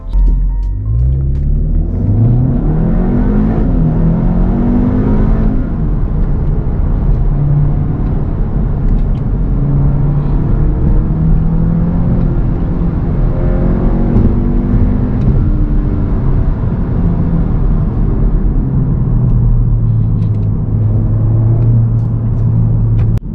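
Steady loud engine rumble from inside a moving Cupra Ateca on the outskirts of London, with gear-change rises and falls in pitch and constant road noise throughout.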